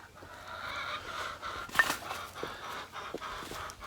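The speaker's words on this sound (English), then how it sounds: "we got some of the older chickens" Older chickens cluck and murmur nearby in a garden in short, scattered bursts, with one louder squawk partway through; no one speaks.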